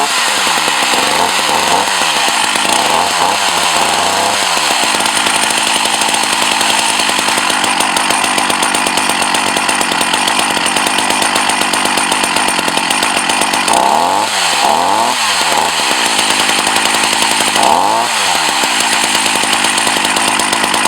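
A Husqvarna 240 chainsaw runs loud and close for the whole stretch, its engine revving up and down in several bursts between steady high idling.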